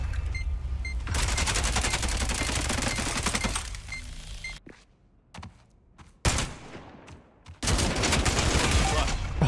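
Rapid bursts of automatic gunfire from a free-to-play 3v3 shooter game, loud and close, with sustained volleys broken by a few brief pauses and single cracks.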